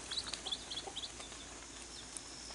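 Faint, quick clucks and chirps of a chicken on a homestead repeat in short bursts over a quiet outdoor background.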